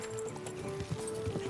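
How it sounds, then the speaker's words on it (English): Horse hooves clip-clopping in the medieval video game Kingdom Come: Deliverance II, a steady moderate-volume walking rhythm with faint background music and ambience. "Easy, good horse."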